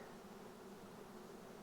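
Honeybees hum steadily around an open hive during frame inspection, a faint continuous buzz with no voices over it.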